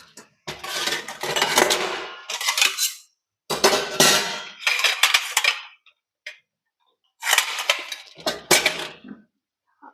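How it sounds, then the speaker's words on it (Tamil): Ceramic plates and cutlery clattering and clinking as they are handled and stacked while being counted in a minimalist family's kitchen, in several loud bursts separated by short silences. "அடுத்து பிளேட்ஸ். வாஷ் பண்ண இருக்க பிளேட்டையும் நான் கவுண்ட் பண்ணிக்கிறேன்."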